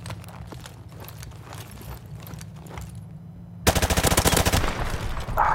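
Gunfire in the video game Call of Duty 4 Remastered, a quieter patch of game sounds giving way to a loud, rapid burst of automatic fire with evenly spaced shots close by.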